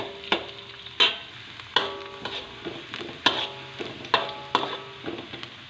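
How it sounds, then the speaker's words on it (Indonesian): Sliced onions frying in a pan for chicken rogan josh, a soft sizzle under repeated sharp knocks and scrapes of a spatula stirring, about one stroke a second, close and clear, no talk. "Bawang bombay ini kita tunggu sampai menguning, tidak terlalu kering dan tidak terlalu basah"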